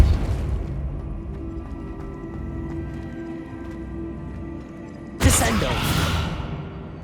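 Descendo and Depulso spell effects in the video game Hogwarts Legacy: a low rumbling hum gives way to a sudden loud whooshing boom that fades over a couple of seconds.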